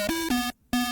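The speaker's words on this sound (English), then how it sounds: "Kind of tape stop at the end" Synthetic beat melody in a trap style that slows with a tape-stop effect, pitch sliding down in two loud bursts separated by a short silent gap.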